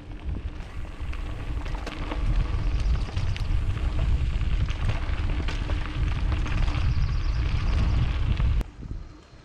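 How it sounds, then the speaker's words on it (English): Loud, blustery wind roars and rumbles against the microphone, swelling and holding steady before easing off near the end. "It's kind of windy."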